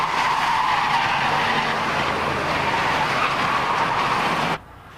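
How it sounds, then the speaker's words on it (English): Race cars at the 1989 SCCA National Championship roar through a turn as a field, a loud continuous engine and tyre drone with skidding that cuts off abruptly near the end. "At the first sight of the green flag, number 47 Brent led the field through turn 1."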